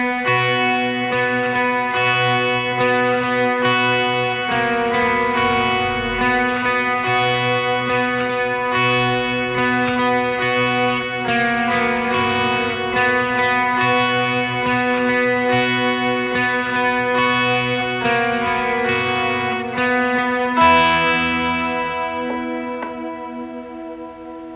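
An electric guitar on the bridge pickup with reverb and delay plays a pre-chorus of sustained, ringing chords and notes that flow into one another for about 25 seconds, close and steady before a final chord decays, with no talking.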